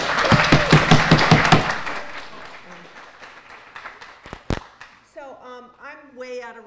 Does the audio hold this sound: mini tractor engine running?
no